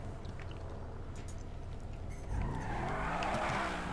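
Bugatti Veyron Vitesse engine in GTA V, a steady low engine drone that swells around midway into a louder rising rev with tire noise, no talk.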